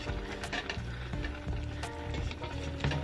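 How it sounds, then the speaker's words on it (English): Ground turkey browning in a pan at home while spaghetti is made, giving a steady close sizzle with occasional stirring scrapes and clatter throughout. "Now we have our meat down here browning."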